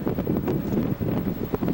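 Strong wind gusts across a baseball field, producing a steady, heavy rumble of buffeting against the microphone that swells and dips throughout without letup.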